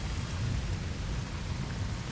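Continuous rainfall with a low thunder rumble in the Choo Choo Charles video game, a steady, dense hiss of a downpour filling the whole stretch without any talk.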